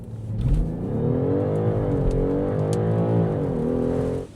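A 2026 BMW 550e plug-in hybrid launches hard under launch control, its engine note climbing steadily in pitch as it accelerates, loud and close throughout with no talk.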